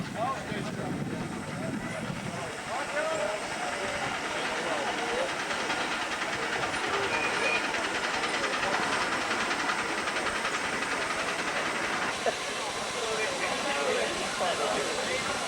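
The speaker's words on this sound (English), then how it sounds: "Merlin Ambrosius takes the train out." A 7¼ inch gauge steam locomotive, Merlin Ambrosius, pulls a train out at a society gathering at Pecorama, giving a steady mechanical rumble and hiss at a moderate distance that holds even through the stretch.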